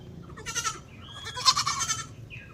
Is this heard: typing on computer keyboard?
no